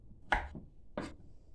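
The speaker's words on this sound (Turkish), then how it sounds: "Bu etlerimi böyle çok küçük küçük doğrayacağım." Meat being chopped into small pieces for kelle paça soup, two sharp knife strikes on a cutting board about half a second apart, close and clear over a quiet background.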